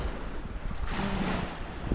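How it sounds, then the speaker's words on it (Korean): Waves breaking on Lake Argentino near El Calafate, Patagonia, a steady washing surf roar with gusty wind buffeting the microphone throughout, no voices. "여기도 호수라고는 하지만 이렇게 파도가 치고 있어"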